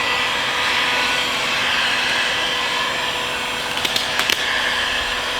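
Heat gun blowing hot air onto tint film over a car taillight, a steady loud broadband whoosh held throughout, with a few brief clicks near the end.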